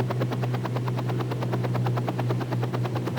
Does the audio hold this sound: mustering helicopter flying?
yes